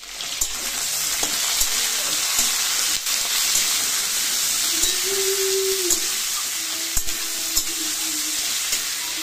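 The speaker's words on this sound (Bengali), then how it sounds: "আর এখন পটল চিংড়ি হচ্ছে" Pointed gourd and prawns fry in a pan for a Bengali potol chingri curry, giving a continuous bubbling sizzle with occasional clinks and stirring scrapes and a brief hissing whine midway, with no speech.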